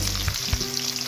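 Onion frying in hot oil in a kadai gives a steady, close, bright sizzle with a few soft stirring scrapes and bumps.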